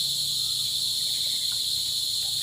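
Crickets chirp in a continuous, even, high-pitched drone that stays steady and fairly loud throughout, with no voices over it.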